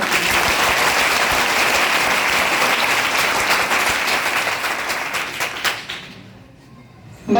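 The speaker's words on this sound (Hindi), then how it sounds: "तो उनके नाम पे पुनः एक बार फिर ताली बजाइए।" A hall full of people at an entrepreneurship conference bursts into loud, sustained clapping that rolls on for several seconds, then thins out and fades into near silence before a sudden final sound.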